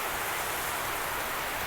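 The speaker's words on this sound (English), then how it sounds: "It's heavy rain." Heavy rain pouring in Birtamod, Jhapa, a brief dense, even roar of falling water with no distinct drops, steady and loud throughout.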